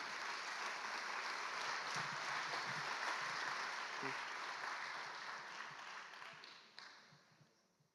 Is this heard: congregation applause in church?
yes